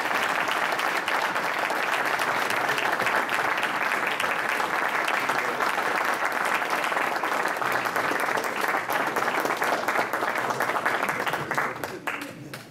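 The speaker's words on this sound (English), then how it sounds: "please give a very warm round of applause to these great Canadian authors" An audience applauds at a book launch in a steady, dense wash of clapping that lasts several seconds, close and loud, then tapers off at the end.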